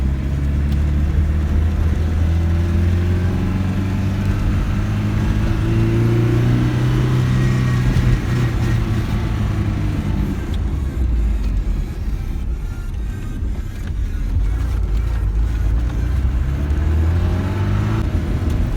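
A Tofaş Şahin car driving toward a highway, with a steady, loud engine and road rumble throughout and some engine revving, no speech.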